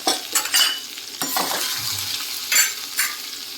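Spice tempering of curry leaves, kharda and turmeric sizzles in hot oil in a pan for a simple dosa breakfast, with loud crackling bursts and stirring scrapes, close and without talk.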